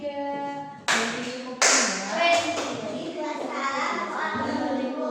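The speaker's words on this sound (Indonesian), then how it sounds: "tepuk tangan buat kelompok 3" Classroom of children clapping for a student group, starting with a few sharp claps and swelling into sustained loud applause, with children's voices mixed in.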